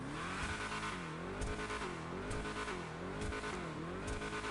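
A car with a straight pipe exhaust revving in GTA Online, repeated rising and falling engine swells in a regular rhythm, loud and close with no talk.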